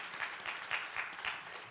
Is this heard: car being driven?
no